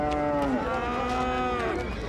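A cow moos in one long, loud, drawn-out call with wavering pitch, close by, amid a rural livestock market with low background noise.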